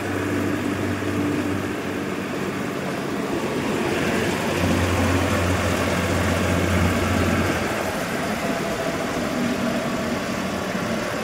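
A tractor fitted with a reaper cutter runs at a steady idle, a continuous low engine drone with a broad rumble that stays even and fairly close throughout.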